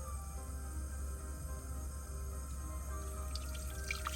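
A garlic chopper is rinsed under running water from a faucet, a soft steady stream with light splashing and a few brighter spatters near the end, fairly quiet and with no talk.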